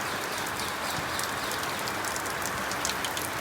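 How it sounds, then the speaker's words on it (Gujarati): Rain pouring down over an open market, a constant close wash of spatter with scattered louder drops and no talking. "આજે પણ વરસાદ ચાલુ થયો"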